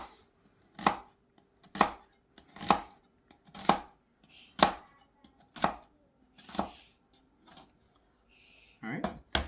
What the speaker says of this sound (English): you're just going to slice vertically, kind of across the onion